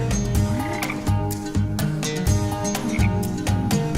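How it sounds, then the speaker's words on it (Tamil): A green frog croaks loudly and close up in a comedy film scene, a steady rhythmic series of deep throaty pulses repeating about every half second, heard alone without speech. "அங்க பச்சை தவளை ஊதுனொன்னு படக்குன்னு வந்துருச்சு"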